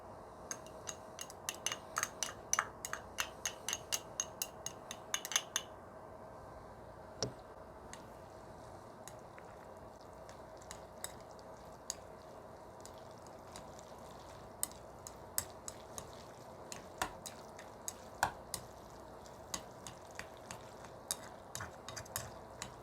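Cooked Samyang jjajang ramen noodles being mixed with jajang sauce: faint, quiet stirring with scattered clicks and ticks of utensils against the bowl, busier at first and sparser later, with no talking.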